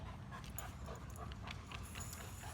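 A dog panting close by in quick, breathy bursts, continuing steadily throughout.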